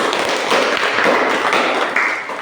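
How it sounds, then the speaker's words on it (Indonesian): Classroom applause for a student group: dense, steady clapping from a roomful of students, close and fairly loud throughout. "kita berikan aplaus untuk kelompok lambung"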